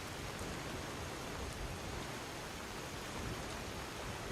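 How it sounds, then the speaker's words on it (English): Heavy rain in a video game with an ENB weather mod pours as a dense, steady hiss that stays loud and unbroken the whole time, with no voices. "Typically, if it's raining this bad, I'm not out in it very long."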